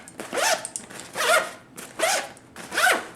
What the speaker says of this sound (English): We'll give it a few zips or fulls back and forth.